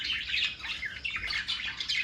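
Pet birds chirp in a quick, bright, continuous chatter of overlapping tweets close by, with no talking.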